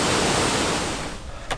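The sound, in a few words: Rainbow Falls waterfall on the Black River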